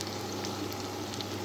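Tandoori-style chicken fries on an electric stove, giving a steady, dense sizzle with no pauses.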